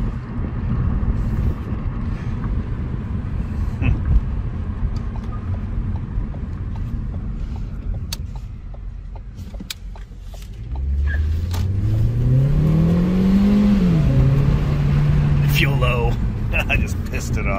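A 2017 Ford Focus with a dual-clutch transmission and a shuddering problem pulls away from a stop. Steady road and cabin rumble gives way to a rising, then levelling engine note as the car accelerates.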